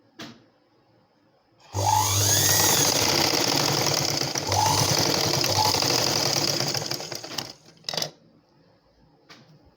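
A sewing machine stitches blouse darts in a steady motorized run of about six seconds, with a brief pause partway through. A short burst follows after it stops, and no one speaks.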